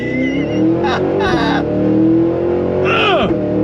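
A 2023 Cadillac Escalade-V accelerates hard on throttle, its engine roaring loud and close as the pitch climbs, drops briefly at gear changes and rises again.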